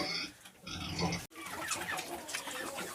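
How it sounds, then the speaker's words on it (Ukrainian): Piglets eating on a farm, with grunting and squealing that fits pigs at feed. The sound runs close and fairly loud for the whole stretch, with a brief sharp break in the middle, and other farm animals such as chickens may be mixed in. "Поросятки їдять"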